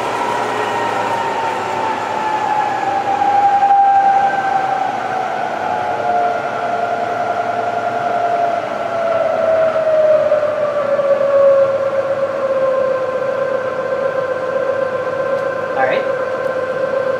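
A CNC knee mill running at about 800 RPM gives a steady whining hum whose pitch slowly sinks over the run, with a brief sharp knock near the end.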